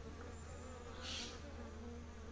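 Honeybees buzz steadily at a hive entrance while one returns carrying pollen, a close, continuous drone with a brief louder swell as a bee passes near.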